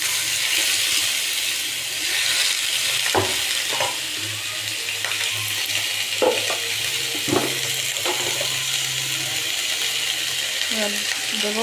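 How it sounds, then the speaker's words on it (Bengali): Chicken pieces dropped into a pan of frying vegetables give a steady, loud sizzle with occasional clinks and scrapes of stirring throughout. "এবার আমি চিকেনের পিসগুলোকে দিয়ে দেবো"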